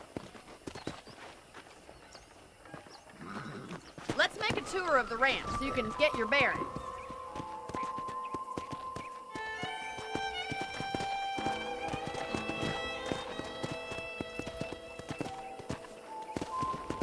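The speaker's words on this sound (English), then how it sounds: "let's see if you can still ride a horse" Horse hooves clip-clop at a steady ride across a ranch in the video game Red Dead Redemption, running beneath a man's speech and a rising musical score, with a brief whinny-like burst early on.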